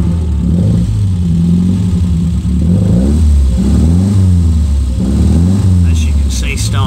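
A 1967 Lotus Elan S3 with Spyder conversion running close up, its engine revving in repeated rising and falling swells over a steady idle, loud throughout, with a few brief high clicks near the end.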